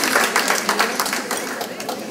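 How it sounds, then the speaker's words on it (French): Sustained audience applause fills a hall at a volunteer tribute evening, dense clapping from many hands holding steady at a moderate level for about two seconds with no voices over it. "Applaudissons chaleureusement Étienne Walraven."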